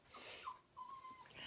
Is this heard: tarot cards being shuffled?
no